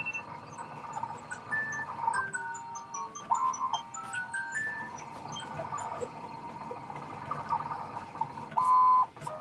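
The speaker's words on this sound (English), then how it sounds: "there's my TikTok alarm" A phone alarm tone chimes repeatedly in a craft workspace, a run of bright beeps and melodic blips that ends in a louder sustained tone near the finish.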